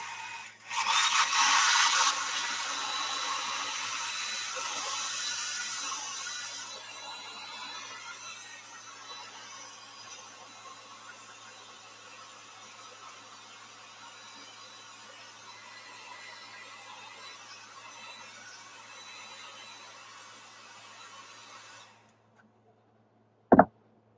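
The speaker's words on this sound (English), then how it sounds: "So to speed up the process here, I'm gonna use a blow dryer." A blow dryer dries the weathering on an HO scale Athearn CSX model locomotive, with a loud airy hiss that starts strong, settles into a steady whoosh for about twenty seconds, then cuts off, followed by a single sharp click.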